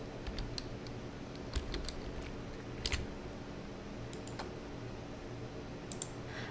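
Computer keyboard keys tapped for shortcut commands while working in Photoshop on an architectural plan render: scattered quick clicks, mostly single taps with a few short clusters, fairly soft over a low steady room hum.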